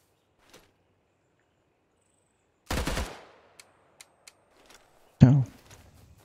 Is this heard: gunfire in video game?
yes